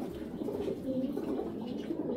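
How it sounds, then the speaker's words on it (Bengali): Belgian-breed pigeon, a racing type with no tail feathers, giving a steady low rolling coo that runs continuously at close range with no talk over it. "একটা অরিজিনাল বেলজিয়াম জাতের একটা কবুতর দেখাইতেছি"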